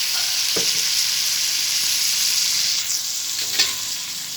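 Pork stock poured into sizzling pork gisa, a loud, steady frying hiss filling the whole moment, with a few faint clinks of a utensil against the pan.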